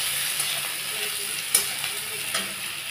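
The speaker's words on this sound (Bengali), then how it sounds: "দিয়ে আমি পেঁয়াজটা একটু হালকা ভাজবো।" Chopped onion frying lightly in a pan gives a steady soft sizzle close by, with a few brief clicks and scrapes of a utensil on the pan.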